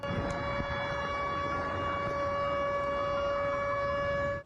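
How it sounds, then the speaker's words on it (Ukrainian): An air raid siren wails over Belgorod, a sustained, steady tone with strong harmonics holding at constant pitch for several seconds before fading out at the end, with no talk over it. "Повітряна тривога лунає і у самому Білгороді."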